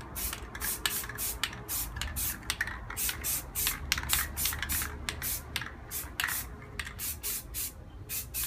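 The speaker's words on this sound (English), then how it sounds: "I'm just gonna try and spray inside here and keep overspray minimal on the outside" An aerosol can sprays gunmetal grey paint onto the inside of car wheels in short, rapid hissing bursts, close and rhythmic, with brief pauses between passes.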